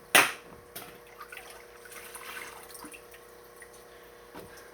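Water pours into a goldfish tank, opening with a sharp splash, then a soft, steady trickle and drip that continues quietly on its own.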